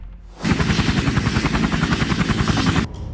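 Helicopter rotors chop loudly and close, kicking up dust clouds on landing: a rapid, steady thumping beat with a roaring whine that starts abruptly and cuts off just before the end, with no voices.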